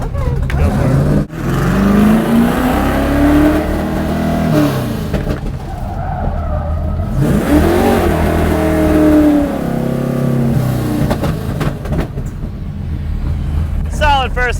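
A car in first gear is held around 4,000 to 5,000 RPM, then drifts with a quick pull of the handbrake, its engine rising and falling loudly with tire noise. An instructor's voice talks over the engine at times.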